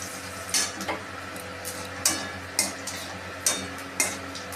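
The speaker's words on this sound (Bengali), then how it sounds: "আর দিচ্ছি শুকনো লঙ্কা, তেজপাতা" Whole spices — cumin, dried red chilli and bay leaf — crackling in hot oil in a pan, with a light sizzle under several sharp, spaced clinks and ticks of a utensil against the pan.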